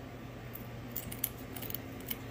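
Kitchen scissors snip through the tail of a red snapper, a series of quiet, crisp clicks and crunches spaced irregularly, close and faint against low room hum.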